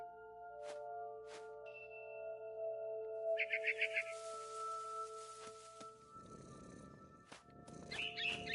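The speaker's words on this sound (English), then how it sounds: "You can hear the purring." A cat purrs in the video game What Remains of Edith Finch, a soft rhythmic rumble set among layered game ambience, with a sustained tone and a few brief chirps over it.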